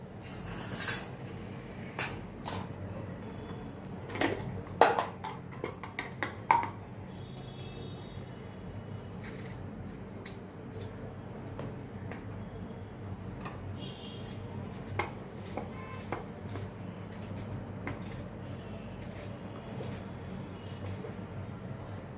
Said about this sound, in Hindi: अभी ये टमाटर को मैं ये चॉपर में अभी मैं क्रश करती हूँ